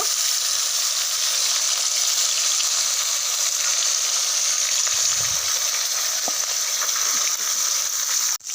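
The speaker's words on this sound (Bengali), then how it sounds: "একে একে করে মাছগুলো সব ভেজে নেব" Pieces of aar fish fry in hot oil in a wok, a loud, continuous close-up sizzle that holds steady with a faint clink near the end and no talking.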